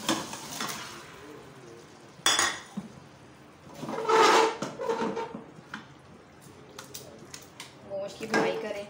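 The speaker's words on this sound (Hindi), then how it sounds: "गोश्त की भुनाई करें।" Beef tossed into a pot with browned garlic and ginger for nihari, with clanks and scrapes of a metal spoon against the pot coming in bursts over a soft background of cooking noise.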